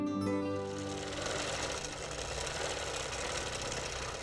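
A quilting machine stitches metallic thread on batting at a steady fast rate, a close mechanical whirring hum with rapid needle clatter that continues without a break and without speech.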